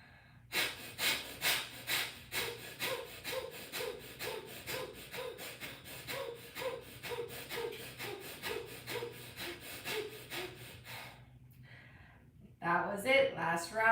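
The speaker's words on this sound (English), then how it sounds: "So remember the bellows breath." Vigorous bellows breathing from a yoga pranayama session: rapid, forceful in-and-out breaths in a steady rhythm for about eleven seconds, close and loud, then a pause and a few heavier breaths.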